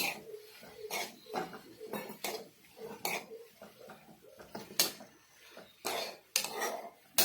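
A spoon scrapes and knocks against a pan while prawn roast is stirred, a series of irregular clattering strokes with quiet gaps between them.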